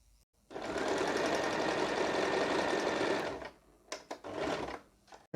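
Sewing machine running a zigzag stitch with a blind hem foot on a saree fall hem, a fast steady mechanical whir for about three seconds, then a few short bursts and clicks as it stops and restarts.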